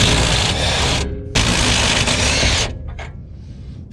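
A power tool whirs and rattles while loosening a nut on the suspension of a frame-swapped Chevy C20 truck, two loud close bursts with a short gap, then a quieter mechanical clatter.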